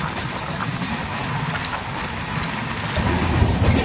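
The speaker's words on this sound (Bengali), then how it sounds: "রামনগর থেকে ছেড়ে দিল আমাদের ট্রেন, এবার দীঘার পথে চলছে।" The Tamralipta Express runs toward Digha, a steady close rumble with rushing rail noise and a faint high squeal, continuous and loud throughout.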